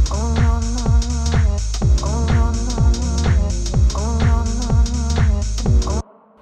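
A lo-fi house groove plays with a steady thumping beat and repeating chords, then cuts off abruptly near the end.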